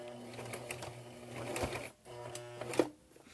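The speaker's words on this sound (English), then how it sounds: "And then I'm going to back stitch first." Sewing machine back-stitching through a mini wallet, a close, rapid mechanical chatter that pauses briefly and then resumes, with no voice over it.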